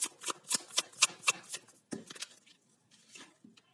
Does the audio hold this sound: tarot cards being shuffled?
yes